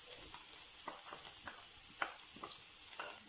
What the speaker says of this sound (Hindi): अब मैं प्याज को थोड़ा सा पका लूंगी इसके साथ।